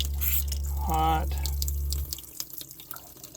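Water from a kitchen sink faucet drips and trickles against a steady low hum that stops partway through, leaving faint splashes and drips.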